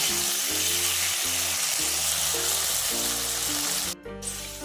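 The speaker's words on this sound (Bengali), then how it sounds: "এবার আমি আলুটাকে একটু লাল লাল করে ভেজে নেব" Potatoes frying in hot oil until reddish, a loud steady sizzle with bubbling crackle that runs continuously close up, briefly dipping near the end.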